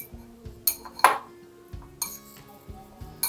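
Sweet potato chaat with onion is stirred in a bowl, giving soft intermittent clinks and scrapes of a utensil against the dish, close and fairly quiet, with a few brighter taps.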